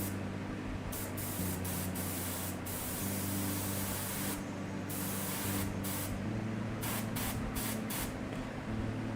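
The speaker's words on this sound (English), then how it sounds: "all we're gonna do with this right here is we're gonna spray towards the top of that" Steady aerosol spray hissing onto a Khorne Chaos miniature, broad continuous hiss broken by short pauses and repeated bursts, with a low hum underneath.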